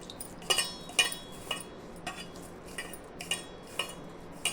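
A spoon clinks rhythmically against a bowl while sugar is mixed into sweet saathu maavu kolukattai dough, bright metallic taps about twice a second over a quiet background.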